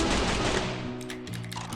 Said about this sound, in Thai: โอ้ผมไม่ชอบเสียงปืนสกาเลยวะ